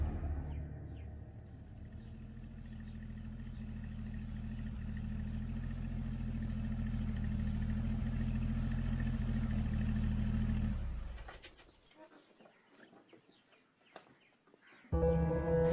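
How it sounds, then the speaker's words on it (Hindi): A car engine runs as the car is driven out, a steady low rumble that builds for about ten seconds and then cuts off, leaving faint background noise and a sudden later sound. "गाड़ी निकलवा।"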